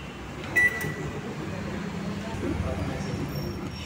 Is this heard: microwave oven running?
yes